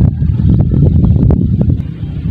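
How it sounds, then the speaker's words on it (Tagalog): Strong wind blows by a river during traditional fishing, a loud, rumbling buffet that roars across the microphone throughout, easing slightly near the end. "Ayan, mahangin na naman mga dods."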